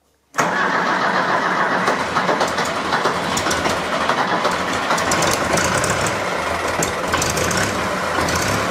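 A diesel tractor engine with a fuel supply fault fires up abruptly after silence and settles into a loud, rough, continuous close-up running rattle.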